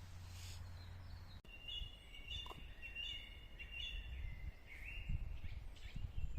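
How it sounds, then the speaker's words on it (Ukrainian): A starling sings outdoors in a varied run of whistles, chirps and rattling notes, fairly close, over a low background rumble. "А тут шпак співає так."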